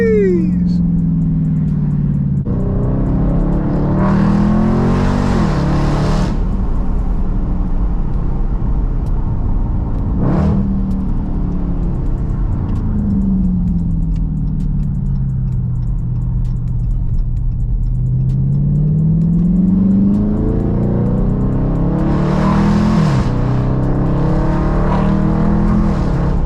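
A 2020 Dodge Charger 392 Scat Pack V8 rumbles and revs through repeated accelerations and shifts, with popping exhaust bursts at the peaks, loud and close from inside the car.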